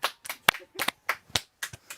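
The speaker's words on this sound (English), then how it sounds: "Clap" Hands clap in a loose, irregular series of about nine sharp, close claps with small gaps between them, heard alone without talking.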